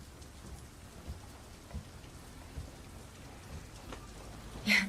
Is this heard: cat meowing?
no